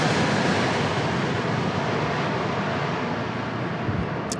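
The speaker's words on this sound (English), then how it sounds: "A220 right here from Delta Airlines" A Delta Air Lines Airbus A220 jet at San Diego International Airport gives a steady broadband engine rush with low rumble, fairly loud and even across the few seconds, without any voices.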